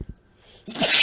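A single sharp sneeze, loud and close, preceded by a couple of brief breathy sounds in an otherwise quiet room.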